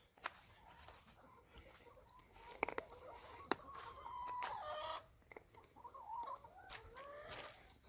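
Chickens cluck and call in a farmyard, with a run of quick clucks and drawn-out squawks at moderate distance, scattered sharp clicks, and no talking.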